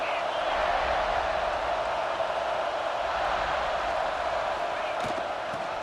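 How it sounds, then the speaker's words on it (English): Continuous stadium crowd roar from the College Football 26 video game, a steady broad wash of many voices holding at high level for the full stretch, with a faint announcer voice underneath. "This crowd ready to make its presence known."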